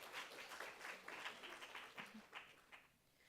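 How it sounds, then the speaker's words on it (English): A round of applause at a university student government meeting: a room of people clapping steadily for about three seconds at moderate distance, fading toward the end. "Round of applause, that's his first time up there."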